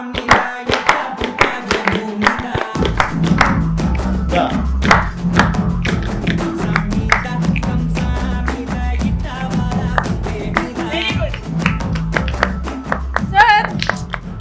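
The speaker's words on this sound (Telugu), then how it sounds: "clap everybody children clap" Children and others clapping along during a lively Telugu interview with music director Thaman, steady rhythmic hand claps over a strong beat-driven music track, with voices mixed in throughout.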